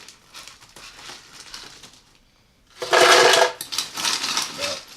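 Ice cubes go into a Ninja blender by the scoop, giving a loud, sharp clattering rattle of several seconds after softer rustling and a short pause.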